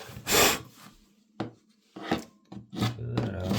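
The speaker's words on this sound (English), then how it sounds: "The good old chisel. Yeah, clear that out." A chisel scrapes and rasps at wood while clearing space for hardwood flooring around a toilet, in several short strokes with pauses between them, close and fairly loud.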